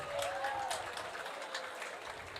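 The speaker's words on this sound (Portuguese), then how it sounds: "Uma salva de palmas para vocês" Audience at an educational talk giving a soft round of applause, faint and somewhat distant, with a brief whistle-like tone near the start.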